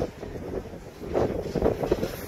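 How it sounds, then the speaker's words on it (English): Strong wind gusts buffet the microphone high on monument scaffolding, a low, rumbling roar that swells and surges throughout. "Fuck, this is windy."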